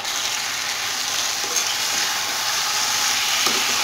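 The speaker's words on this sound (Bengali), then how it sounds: "হাই হিটে 2 মিনিটের মতো সবজিটা আমি একটু এইভাবে ছড়িয়ে দিয়ে 2 মিনিটের মতো একবার নাড়াচাড়া করে রান্না করি" Vegetables for a vegetarian curry stir-fry over high heat, giving a loud, even, continuous sizzle up close with a couple of faint scrapes as they are tossed.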